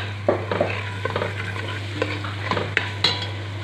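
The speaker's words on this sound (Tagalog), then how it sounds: "ilalagay ko po yung tomato paste. At halo-haloin lang natin guys" Tomato paste stirred in a sizzling pan, a soft steady frying hiss with scattered scraping and clinking strokes of a utensil against the pan over a constant low hum, close and without talk.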